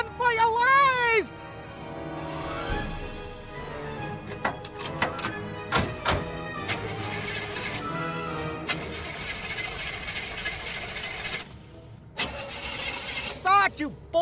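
A car engine in a haunted-crypt adventure game cranks and sputters without catching, a loud struggling start amid thunks and game effects, with a voice heard early on.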